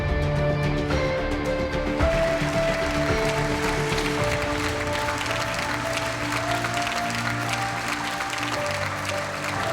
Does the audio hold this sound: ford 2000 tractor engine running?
no